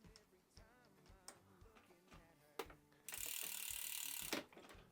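Pro Max brake calipers being cinched onto a bike frame with a tool, giving a series of small ratcheting clicks and ticks, then a loud sustained metallic rasp for over a second before it stops.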